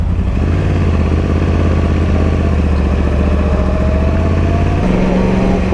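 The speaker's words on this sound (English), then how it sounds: "the exhaust is rumbling." A Yamaha YZF R1 sport motorcycle's exhaust rumbling loud and close, a deep steady drone with a slight pitch shift near the end, with no talking.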